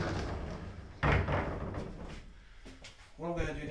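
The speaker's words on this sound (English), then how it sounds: "This is a working sliding door." A sliding door on a U boat rail trailer rolls and thuds, with a sharp knock about a second in, while someone talks over it close to the mic.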